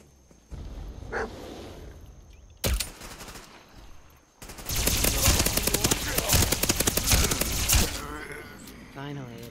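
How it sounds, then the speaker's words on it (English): Sustained gunfire in the video game Fallout 4: sharp isolated shots give way to a dense, loud stretch of rapid automatic bursts, with talking heard at the start and again as the shooting fades near the end. "Who is shooting the whole time?"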